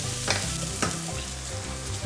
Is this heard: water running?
no